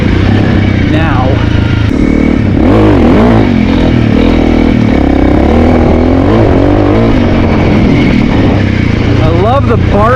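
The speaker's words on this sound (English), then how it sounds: "I love the bark that this thing has now with that exhaust." A Honda CRF 300L motorcycle with an aftermarket exhaust rumbles loudly nearby, its exhaust barking as the revs rise and fall in short bursts.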